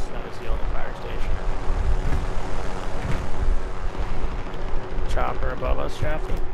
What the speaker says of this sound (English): Chopper above us, Jaffe.